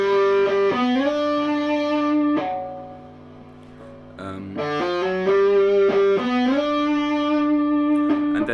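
Electric guitar with distortion plays a melodic solo, sustained singing notes with slides between pitches, loud and alone, with a brief dip in the middle before the phrase resumes.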